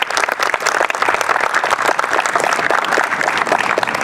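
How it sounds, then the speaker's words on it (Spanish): A live audience applauds guests at a creators' session, dense steady clapping filling the room at close range throughout, with no talk over it. "les pido de nuevo un aplauso para nuestros invitados."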